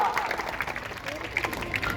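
Crowd seated on the ground at a village dangal wrestling match claps to welcome the wrestler Rameshwar. The applause is steady and moderately distant, running under an announcer's talk.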